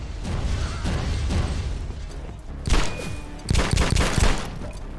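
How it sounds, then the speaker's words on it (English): Gunfire and explosions ring out in the shooter game The Club on a bunker level: steady rattling bursts of shots, then two loud, close blasts with sharp crackling fire around them. "I heard way too many explosions for my liking"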